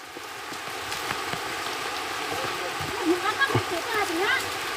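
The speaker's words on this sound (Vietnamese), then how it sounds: "Đang mưa căng quá nhỉ." Steady heavy rain falls on a steep mountain cliff road where villagers work with hoes, shovels and crowbars, a continuous wash with splashes beneath people talking.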